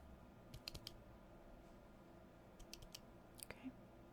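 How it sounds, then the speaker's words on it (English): A few soft, sharp clicks sound close to the microphone in small clusters against a near-silent background, made as part of a whispery ASMR cranial nerve exam hearing test. "now let me know which side you hear the clicking on"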